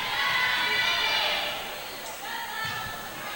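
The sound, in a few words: Liberty crowd cheering a referee's call at volleyball match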